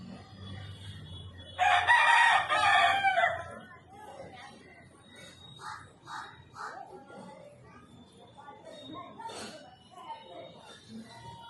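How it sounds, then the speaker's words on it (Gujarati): A rooster crows once loudly nearby, a long strained call, followed by quieter scattered bird chirps and faint background noise. "જો કુકડો બોલ્યો"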